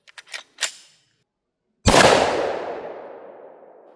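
A single sharp gunshot from a Glock G20 10mm pistol with a 4.61-inch barrel, fired through a chronograph, rings out loud and close and decays slowly, preceded by a few faint clicks.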